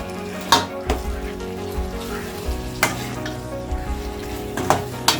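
Marinated chicken added to deeply sautéed tomatoes sizzles loudly in a pan for a South Indian Kongunadu chicken gravy, a steady fry broken by a few sharp clanks and scrapes of stirring.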